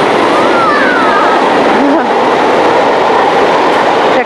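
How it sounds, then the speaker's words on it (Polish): A train rumbles past close by, a loud steady roar with rail squeals and a brief rising whine, continuous throughout. "O, pociąg!"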